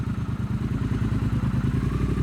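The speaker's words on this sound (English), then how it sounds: "right down into first gear, a little rev match" A 2024 Triumph Bonneville T120 parallel twin idles in a close, steady, throbbing rumble as the rider shifts down into first and gives a small rev-matching blip, with no voices.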